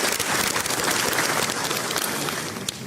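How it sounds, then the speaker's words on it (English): Sustained applause from an audience at a law school honorific lecture in Ghana, a steady dense clatter of many hands holding level for about three seconds, with no voices over it. "Shall we appreciate him with another round of applause?"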